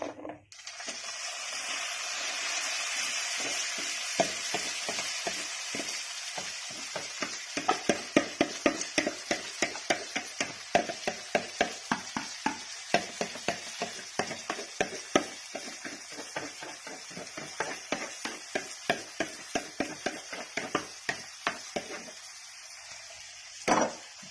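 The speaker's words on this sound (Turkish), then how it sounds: "şimdi biraz da pirinçlerimizi kavuruyoruz burada" Rice toasting in a pan for a braise, with a steady sizzle under rapid, rhythmic scraping and tapping of a utensil against the pan, loud and close throughout.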